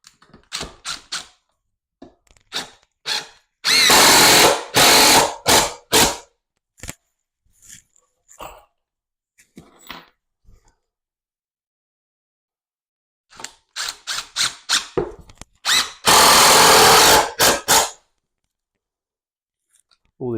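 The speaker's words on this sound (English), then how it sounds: "so I'm going to get some 70mm screws. Fix these in place." Power drill driving 70mm screws into a wooden model railway baseboard, heard as two long loud whirring bursts, each preceded by short clicks and taps of handling.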